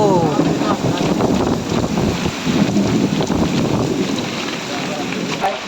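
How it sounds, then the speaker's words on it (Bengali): Strong wind roars and buffets on a boat in a hailstorm, loud and continuous. Gusts rush over the microphone and a voice is briefly heard over the noise. "ও মাই গড আল্লাহ দেখেন কী পরিমাণ বাতাস"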